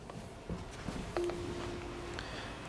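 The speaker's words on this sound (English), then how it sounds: "what happens when somebody initiates a call from the intercom. So if I go ahead and push this button," An intercom call button is pressed, followed by a steady electronic tone lasting about a second, with a few small clicks and handling noises around it.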